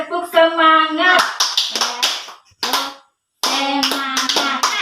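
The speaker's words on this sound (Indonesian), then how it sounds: "mari kita tepuk semangat dulu ya Ibu-ibu" Group motivational clapping by a room of women at a maternal-care session, with bursts of quick rhythmic claps alternating with voices chanting together, a brief pause, then another round of clapping and chanting.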